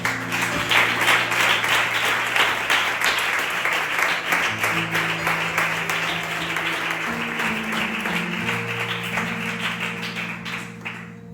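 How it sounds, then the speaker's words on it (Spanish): A congregation at a church service breaks into strong applause lasting over ten seconds. Dense, steady clapping is heard over faint sustained tones, and it tapers slightly toward the end. "le damos un fuerte aplauso al Señor"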